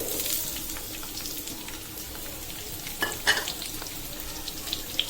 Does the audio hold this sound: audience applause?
no